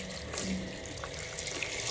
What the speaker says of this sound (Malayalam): നമുക്ക് ഇതിലേക്ക് വെവാൻ ആവശ്യമായ വെള്ളം കൂടി ഒഴിച്ചു കൊടുക്കാം